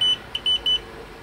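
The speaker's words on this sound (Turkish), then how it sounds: "Kumandamız bip bip ötmeye başlıyor" A DJI Spark remote controller beeps while binding to its drone: four short, sharp electronic beeps in a quick uneven run, the last three evenly spaced, close to the microphone and alone over faint room hiss.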